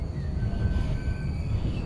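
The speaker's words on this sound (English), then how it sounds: "It sounds like a tram." A tram runs along in the Urban City Tram Simulator video game, a steady low rumble with faint tonal whine held at an even level throughout.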